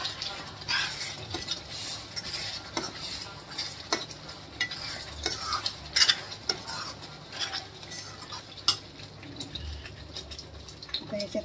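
An onion-tomato masala for chole is stirred and fried in a pan, loud close sizzling with a steady run of spatula scrapes and clinks against the pan, and a voice faint in the background at moments.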